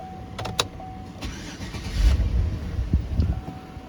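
A Chevrolet Tahoe, just repaired for a P0230 fuel pump module fault, cranks and fires up, its engine catching and settling into a steady idle, close and alone.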